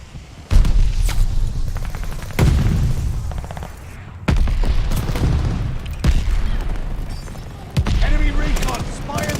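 Mortar shells burst in Call of Duty: Modern Warfare 2: repeated heavy booms arrive every couple of seconds amid rattling gunfire and battle noise, with game voices calling out underneath.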